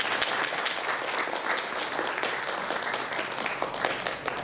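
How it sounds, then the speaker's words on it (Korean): Dense, steady applause from a church congregation welcoming visitors at a Sunday worship service in Kenya, sustained and evenly loud throughout with little else heard. "환영 박수 한번 쳤습니다"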